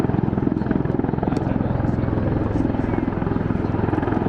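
Rapid, rhythmic thudding of large rotors pulses steadily and loudly throughout, the heavy chop of a V-22 Osprey tiltrotor hovering nearby at Beale Air Force Base.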